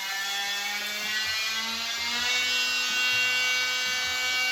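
A Milwaukee M18 cordless multi-tool runs at low speed, a steady whining buzz close to the microphone with faint uneven knocks underneath, and no one speaking.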